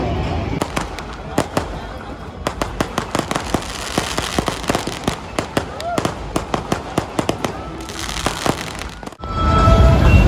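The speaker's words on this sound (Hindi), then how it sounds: "देखो फायर वर्क्स हो रहे" Fireworks bursting at a night kite festival at Charminar: a rapid string of sharp, loud crackling pops at close range over a crowd murmur, ending in a louder wash of noise.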